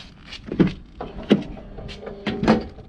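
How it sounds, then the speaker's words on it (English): A 2012 Lincoln Navigator door being opened, with a series of clunks and mechanical thumps from the latch and moving parts, close by and with no voices. "when you open the door,"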